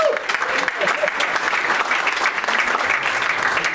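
Applause during a sales meeting, a steady patter of clapping hands from a small group, fairly loud and close, with voices mixed in underneath.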